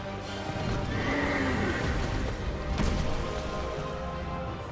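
A horse boss in Dark Souls II: Scholar of the First Sin neighs loudly over steady galloping hooves and clattering, close and continuous, with a sharp impact partway through.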